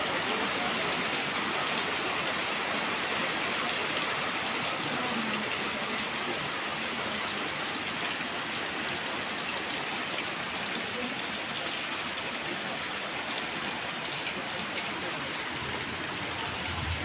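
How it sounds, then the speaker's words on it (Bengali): Heavy rain pours down in a dense, unbroken roar that stays loud and steady throughout, with no talk over it. "বৃষ্টি বৃষ্টি বৃষ্টি বৃষ্টি, অনেক বৃষ্টি হইতেছে।"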